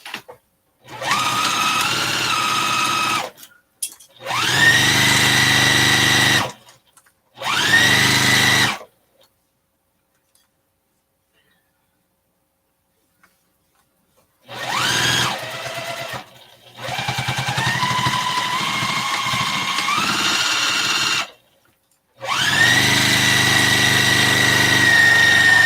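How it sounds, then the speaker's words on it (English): Sewing machine stitching down the side of a fabric project bag, running in long steady motor bursts of a few seconds each, loud and close, with a long silent gap in the middle and no talking. "Now, sew this side down"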